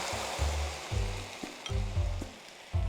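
Sizzling pan as pasta water mixed with doenjang is poured in, bursts of loud hissing and bubbling in several uneven surges with low rumbling underneath, close and dominant with no talking.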